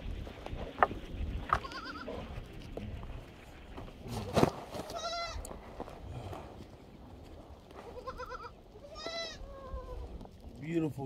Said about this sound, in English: about to get started feeding the baby goats.